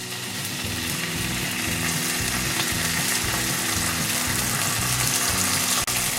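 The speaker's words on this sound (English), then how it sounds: "Then it's time to add the bacon to the pan." Bacon frying in a pan gives a dense, steady sizzle and crackle that runs the whole time, loud and close, with no voices.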